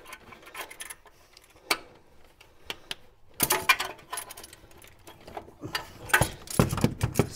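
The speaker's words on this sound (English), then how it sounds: "See if I can get a socket on that." A socket wrench working on a heat shield bolt on a Mk2 Golf, sparse metallic ticks and clinks at first, then bursts of rattling and ratcheting clicks, close and without talk.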